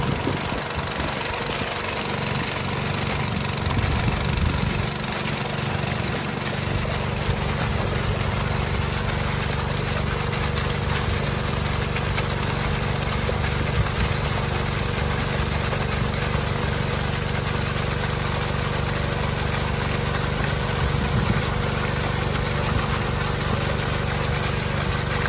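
A small four-stroke 8 hp petrol engine runs steadily at a constant idle-like hum, loud and close, with no pauses throughout.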